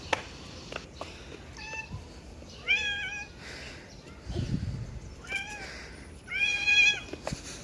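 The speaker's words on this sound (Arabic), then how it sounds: "بينتشر بحي البلاط الكثير من القطط الجميلة اللي بحبها السياح" A cat in the Balat district of Istanbul meows repeatedly in short, rising cries amid quiet street ambience, several calls spaced over several seconds at moderate distance.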